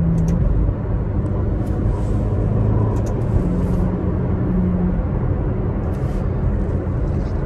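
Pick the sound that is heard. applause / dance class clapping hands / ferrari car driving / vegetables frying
ferrari car driving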